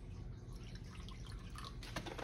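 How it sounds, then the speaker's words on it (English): Apple cider and pineapple juice poured into the bottom of a pan for oven-roasting: faint liquid trickling and dripping sounds, quiet and close, with no talking. "I like to put a little apple cider and pineapple juice in the bottom of the pan"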